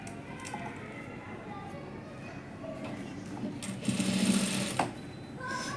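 A sewing machine stitches blouse fabric together with its lining, a quiet mechanical whirr that speeds into a rapid rattling burst near the end, with faint clicks and handling noises around it.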